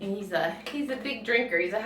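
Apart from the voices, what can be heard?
No distinct noise like a dog, phone or traffic.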